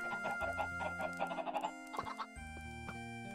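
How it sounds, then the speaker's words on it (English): Chickens in a Minecraft automatic chicken farm cluck repeatedly in the video game, several overlapping clucks over a steady tonal background. "This is an automatic chicken farm."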